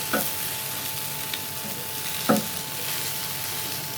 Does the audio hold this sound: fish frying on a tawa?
yes